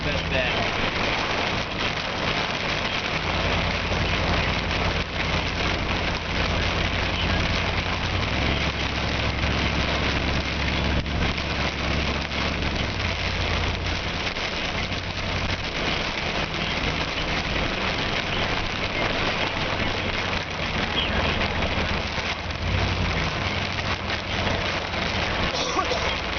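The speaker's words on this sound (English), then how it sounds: "Little bit of hail, not too bad." Hail drums on a storm chaser's vehicle in a dense, continuous patter during a Kansas spring storm, mixed with steady engine rumble and muffled talk inside the car.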